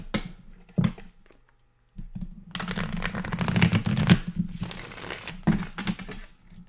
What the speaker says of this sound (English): so let's shuffle it up